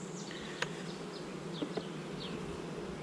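Honeybee colony at a home hive during an April inspection, a soft continuous hum of many bees with a few individual bees buzzing past close by and faint clicks, no talk.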